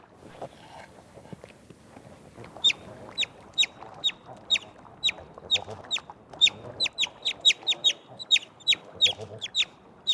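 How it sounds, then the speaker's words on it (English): Loud, high chirps from an otter pup calling for its mother in Yellowstone repeat in a quick, uneven series over faint rustling and shuffling, close by, with no voices. "With loud chirps, it calls for its mother."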